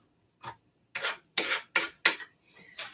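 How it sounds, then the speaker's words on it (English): A knife chops through broccoli florets on a board in a kitchen, giving five or six separate crisp cuts in an uneven rhythm, close and fairly loud, with no talking. "I'm just chopping up the florets part of it, the leafy part."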